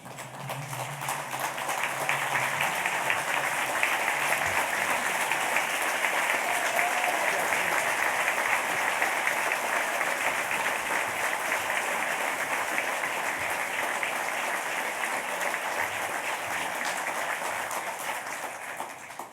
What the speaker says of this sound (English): let's stand and give them a round of applause.